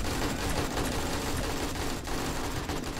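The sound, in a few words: gunfire in a video game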